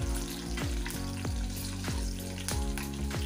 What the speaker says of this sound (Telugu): ఇవి వేగాక ఇందులో కట్ చేసి పెట్టినటువంటి రెండు గ్రీన్ చిల్లీని యాడ్ చేసి వేయించుకుందాము